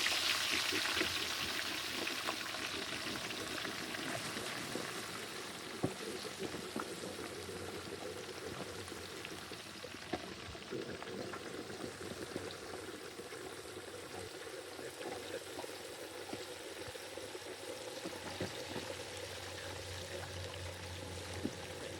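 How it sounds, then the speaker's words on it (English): A whole turkey being slowly lowered into hot frying oil makes a faint, continuous bubbling and hissing texture that stays fairly even throughout, with no talk. "Slowly lower the bird in."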